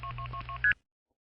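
Telephone dialing tones for the number 277-2222, a quick even sequence of short beeping tones in a steady rhythm ending in a brighter final tone, then abrupt silence, close and clear.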